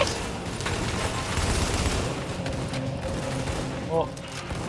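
Gunfire chews into a wall in The Division, a rapid crackle of shots and chipping impacts over steady combat noise while someone talks excitedly.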